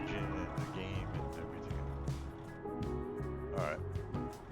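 A truck engine in American Truck Simulator, a steady low droning rumble whose pitch shifts in steps with gear changes, running continuously under someone talking.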